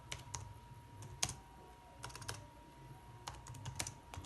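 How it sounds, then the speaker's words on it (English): Typing on a computer keyboard: quiet, close keystrokes in irregular bursts and single taps over a faint steady hum, no voices. "all you need to do is just to type in"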